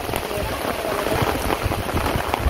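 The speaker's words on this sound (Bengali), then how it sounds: "বৃষ্টি নেমে গেছে" Steady rain falls in a dense, even patter close by, broad hiss with scattered drop taps throughout and no voices.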